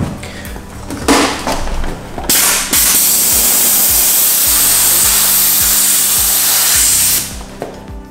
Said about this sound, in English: Steam will relax the film and will activate the glue.